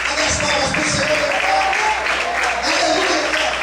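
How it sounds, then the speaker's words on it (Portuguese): A church congregation applauds in praise during a worship service, steady dense clapping filling the room with voices mixed in throughout. "Olha as palmas para o Senhor."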